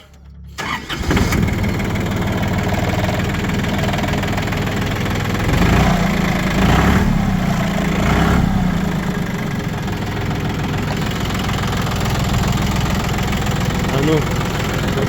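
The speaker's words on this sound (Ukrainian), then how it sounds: "Давайте спочатку тако заведемо трохи, як то кажуть, о, як мотор працює" An engine cranks and starts, then settles into a steady, loud running rumble with a slight rise in revs midway, close by.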